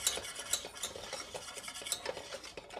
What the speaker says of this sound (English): Go ahead and dump all the flour in at once. And just stir until you have a nice smooth paste.